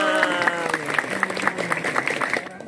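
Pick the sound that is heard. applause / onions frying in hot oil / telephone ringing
applause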